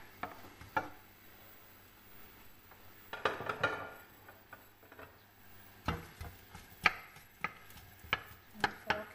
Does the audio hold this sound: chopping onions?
yes